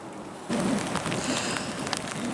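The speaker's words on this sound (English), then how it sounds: "Well, the weather's a bit dire now. It really is, pouring down with rain." Rain pours down on the River Thames foreshore in London, starting abruptly as a dense, steady hiss with scattered drop patter, close and moderately loud, with no speech.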